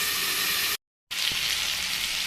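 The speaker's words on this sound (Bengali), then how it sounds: "আমার সবজিটা কিন্তু বেশ ভালো করে ভাজা হয়ে গিয়েছে" Brinjal and okra frying in a pan give off a steady, close sizzling hiss that cuts out abruptly for a moment and then resumes just as strongly.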